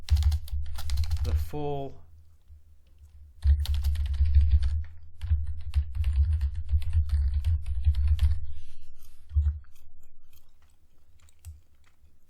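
A website address is typed on a computer keyboard in quick bursts of close key clicks, broken by pauses, while someone talks over parts of it.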